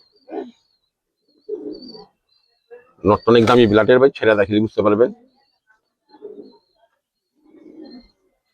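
Giribaz pigeons give several soft, low coos, scattered before and after a burst of close male speech.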